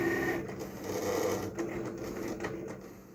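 A Cricut cutting machine cutting a scrapbook title: a steady mechanical whir with faint clicking and shifting motor tones, fairly quiet and without talk.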